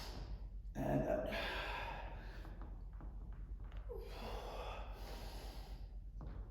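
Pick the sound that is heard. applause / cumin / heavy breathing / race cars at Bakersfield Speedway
heavy breathing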